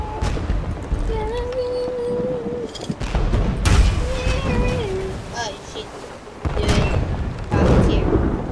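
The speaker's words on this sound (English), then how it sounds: "You're shooting lightning cannons." Lightning cannons fire during a ship battle in Pirates of the Caribbean Online, with heavy booms and crackling blasts at sea under game music and tonal sound effects.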